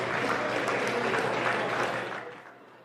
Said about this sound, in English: Let's give both of those exhibitors a round of applause.